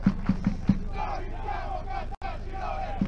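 Football supporters of Caltagirone Calcio, about fifty in the stands of the Pino Buongiorno ground during an Eccellenza league match, cheer and chant steadily. A few rhythmic shouted beats open the sequence, then a sustained crowd roar continues.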